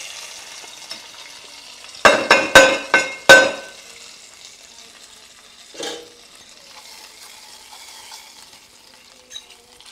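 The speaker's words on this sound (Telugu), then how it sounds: "ఇప్పుడు మనం దీంట్లో పోపును వేసుకోవాలండి" Tempering spices dropped into hot oil in a pan for a cucumber masala curry, starting with a quick burst of five or six sharp crackling pops, then a single softer sizzle and light quiet background hiss, with no speech.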